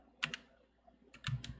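A few quiet keystrokes on a pink computer keyboard, two short bursts of clicks with a pause between them, close up and with no talk.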